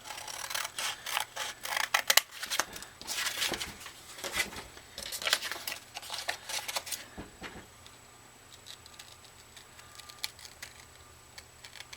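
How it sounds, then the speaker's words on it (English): Scissors snip a small corner off a colored paper bag being made into a folio-style journal, a run of close, crisp clicks and rustles bunched in the first half, then quieter handling sounds. "Cut that little corner there."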